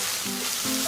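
Onion and squid sizzling in olive oil in a hot pan, a steady bright frying hiss filling the whole moment with a few soft stirring shifts underneath.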